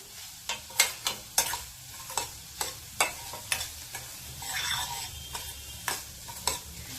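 Paneer bhurji spiced with garam masala gets stirred in an oiled pan, a faint background sizzle punctuated by a steady series of sharp spatula clicks and scrapes against the metal.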